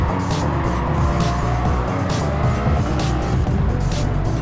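A Lamborghini Miura Bertone prototype racing, engine roaring steadily at high revs with tires squealing and skidding, loud and close throughout with no pauses.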